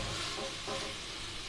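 Mixed red and green chilies sizzle and crackle in a hot pan while being stirred, a dense close frying hiss with light scraping through a brief moment, no talking.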